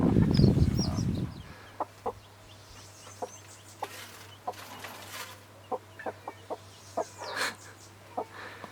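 Soft, scattered clucks from chickens at close range, short bursts spaced irregularly over a quiet background with a low steady hum.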